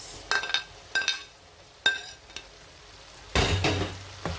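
A spoon stirs vegetable sauce with dry prawns and a little dry fish in a pot, making a few sharp scraping clinks against the metal followed by a louder, longer scraping stir, close and otherwise quiet.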